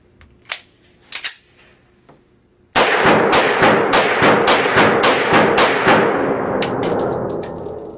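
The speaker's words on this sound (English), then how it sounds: "I'm going to keep shooting a little bit." A Beretta PX4 Storm pistol fires a few separate sharp shots at a test range, then a fast run of about a dozen loud, close reports that ring out and fade.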